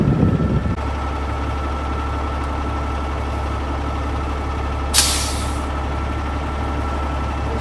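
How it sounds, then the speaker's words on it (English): Air suspension on a Peterbilt 389 truck dumps its air: a short, sharp burst of hissing near the five-second mark, heard over the steady low rumble of the idling engine. "I'm ready to drop the air on the truck and pull her off."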